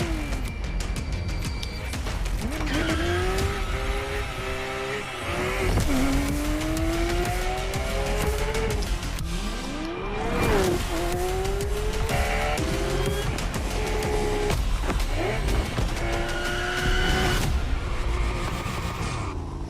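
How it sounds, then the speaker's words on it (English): Porsche driven at high speed through a jungle in The Crew Motorfest racing game, engine continuously revving with rising gear-shift sweeps, repeated tire squeals and skids, loud and unbroken for the whole stretch with no talk. "Just enjoy this short video of our Porsche going through a jungle at like 100 miles an hour."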